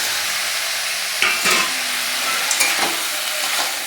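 Fried lentil dumplings being stirred into a sizzling banana flower curry, a loud, continuous frying hiss with a few scraping stirs and clinks of the spoon against the pan.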